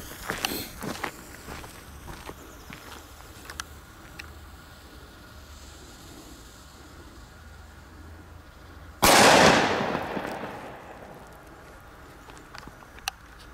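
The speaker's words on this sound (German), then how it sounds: "einfach genial, das sind gute Böller." A single loud New Year's Eve firecracker bang bursts out midway, with a crackling decay trailing off, amid quieter scattered pops and footsteps.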